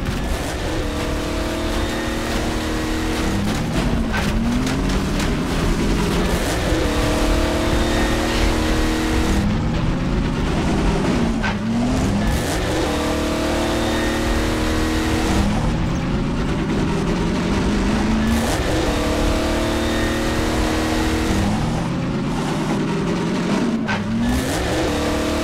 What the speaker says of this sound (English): Step on it, Gordon.